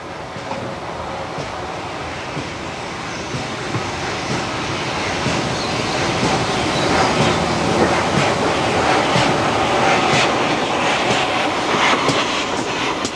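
A pair of GWR steam locomotives haul a freight train through South Wales on the former Brecon and Merthyr Railway, giving a steady, loud rumble with rail clatter that builds slightly toward the end, with no voices.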